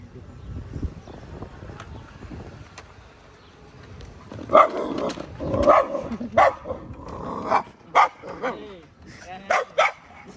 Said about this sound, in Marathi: मागून कुत्रा आले